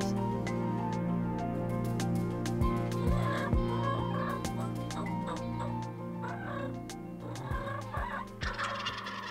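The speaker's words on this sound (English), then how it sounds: "The two gobblers come out," Wild turkey gobblers call on a Sunday morning sunrise hunt in Yates County, with several loud rattling gobbles at close range, interspersed with softer clucks and other bird calls outdoors.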